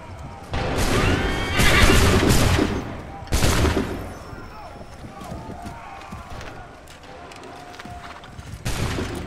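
A musket volley fired by a line of soldiers in Assassin's Creed 3 Remastered booms in loud overlapping cracks, joined by horses whinnying and hooves clattering, with shouting voices between bursts.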